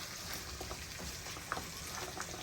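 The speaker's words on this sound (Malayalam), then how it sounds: "ആ പാത്രം വെച്ചിരിക്കുന്ന ഫ്രഞ്ച് ഫ്രൈസ് ഫ്രൈ ചെയ്യാൻ വേണ്ടിയിട്ട് കേട്ടോ" French fries frying in a pan of oil at home, a steady dense sizzle with a few small pops, close and moderately quiet, with no talking.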